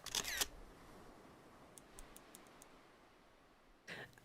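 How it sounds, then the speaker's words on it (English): A digital camera shutter click in a video game: two bright clicks open the clip, a quick run of faint ticks follows, and one more click closes it, all crisp against quiet. "he clicks the shutter"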